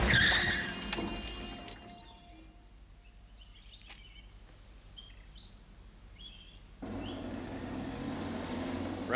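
A car brakes and skids on the road in a 1988 television adventure series, with a loud tire screech that fades into a quiet stretch and then returns as a harsh, sustained noise.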